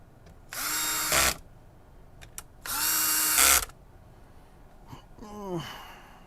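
A power screwdriver drives screws into a game console during a repair, two loud sustained whirring bursts followed by a shorter rising whine, with quiet pauses between them.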